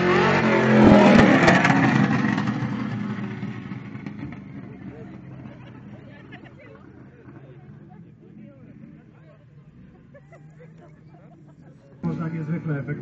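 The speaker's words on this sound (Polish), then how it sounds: "nie zabraknie także bączków w wykonaniu Andy'ego w samochodzie NASCAR" A NASCAR stock car at a 2012 Bielsko motorcycle meet revs loudly while doing donuts, the roar peaking early and fading under an announcer's voice before rising again at the end.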